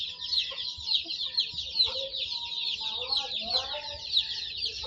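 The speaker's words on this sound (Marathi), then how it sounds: "बघा कोंबड्यांची क्वालिटी बघा" A flock of pure desi village hens and roosters at a farm gives steady overlapping clucking and cackling, near and fairly loud, over a continuous high insect-like buzz, with a voice briefly in the background.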